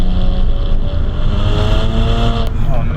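BMW 335i with a tuned N54 engine making 415 hp, pulling hard on a canyon road, a loud steady engine drone with rising harmonics as it accelerates, over cabin noise.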